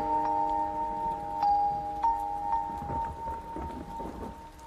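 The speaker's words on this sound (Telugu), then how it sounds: "వర్షం పడుతోంది" Steady rain falls throughout, a soft even hiss beneath a sustained tonal hum, with no voices.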